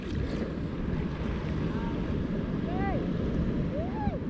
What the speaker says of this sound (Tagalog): Medyo malaki yung alon dito.